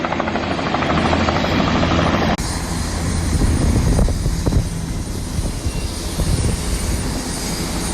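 Steady, loud helicopter rotor and engine noise heard from inside the cabin during a ride, a constant droning roar with a brief dip partway through, with no talking over it.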